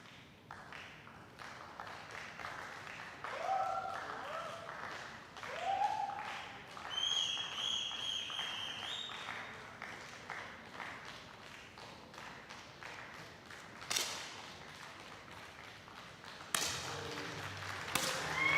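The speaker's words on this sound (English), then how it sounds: "So the crowd now starting to increase the noise" Crowd murmur and scattered claps and cheers from spectators at a women's junior 10m air pistol shooting final in New Delhi, building in bursts over a steady background hum, with sharp taps and a louder swell near the end.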